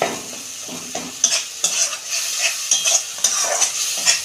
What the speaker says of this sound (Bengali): অল্প জল দিচ্ছি এটা দু মিনিট ভালো করে কষাবো আমি